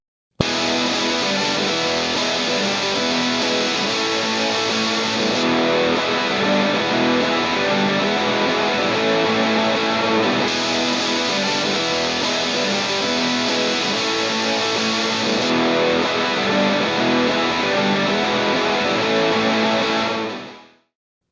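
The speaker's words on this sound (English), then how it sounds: "For our final example, we have an electric guitar with a lot of high-end hiss and static." An electric guitar plays continuously with heavy high-end hiss and static, sustained distorted tones holding steady for about twenty seconds before cutting off abruptly at the end.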